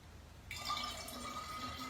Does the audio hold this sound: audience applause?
no